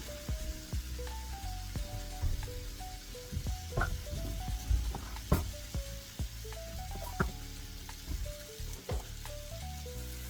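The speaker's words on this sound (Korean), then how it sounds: "이렇게 지글지글 끓을 때까지 볶아주시면 됩니다" Sliced sausage and onion stir-frying in a hot pan, a continuous close sizzle broken by scraping and clacking as the spatula stirs, with no talking over it.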